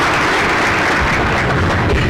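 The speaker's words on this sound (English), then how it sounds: "A round of applause for all the members participating in the forum." Applause from a large audience at a Latin American democracy forum fills the hall, a dense, continuous wash of many hands clapping at steady loudness throughout.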